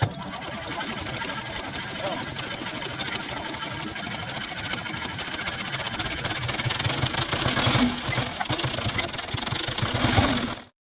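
Farm machinery engine running steadily while driving out to a distant field near a winter barley crop, a loud continuous mechanical drone with rattling that rises slightly toward the end before cutting off abruptly.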